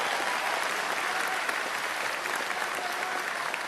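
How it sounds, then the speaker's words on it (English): A crowd at a political rally in Kitchener gives sustained, even applause for trades workers in heavy machinery, flooring and drywall, a thick unbroken wash of clapping from many hands. "Give them a round of applause."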